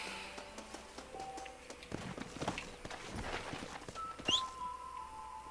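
A player's horse in Red Dead Redemption trots along with faint, soft hoof clip-clops under a busy game soundscape, with scattered tones and a brief bright sound near the end.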